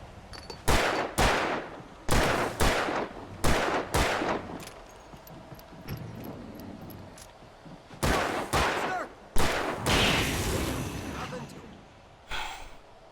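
Gunshots in Alan Wake Remastered, a series of loud sharp cracks fired in irregular bursts with echoing tails, some clustered rapidly, alongside gasps and heavy breathing.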